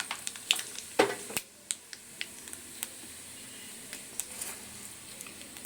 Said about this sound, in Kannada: ಈಗ ಇದಕ್ಕೆ ನಾನು ಸಾಸಿವೆನ 1 ಸ್ಪೂನು ಒಗ್ಗರಣೆ ಮಾಡ್ತಾಯಿದ್ದೀನಿ.